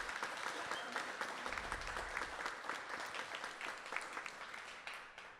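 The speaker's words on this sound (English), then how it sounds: "you should give them a round of applause" A graduation audience applauds, a dense, steady wash of many hands clapping together throughout, full and sustained before thinning slightly at the end.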